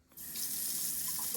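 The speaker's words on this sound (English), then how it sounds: "when I turn on the hot water, it comes to life" Hot water gushes from the tap into a sink in a small lake cottage, starting abruptly after a brief hush and settling into a steady, close, even rush.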